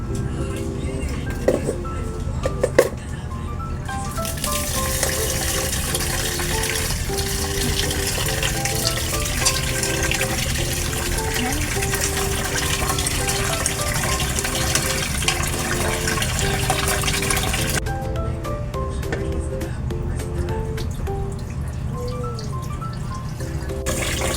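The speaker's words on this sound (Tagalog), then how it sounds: "Tapos, hugasan ang bigas ng dalawa o tatlong beses." Uncooked rice is rinsed in running water, a steady loud splashing and trickling that lasts for most of the stretch and then eases off, with faint clinks early on.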